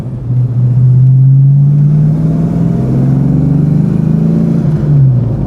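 The engine of a restored 36-year-old Foxbody Mustang rumbles loud and close while driving, a deep steady drone that rises slightly and then eases off.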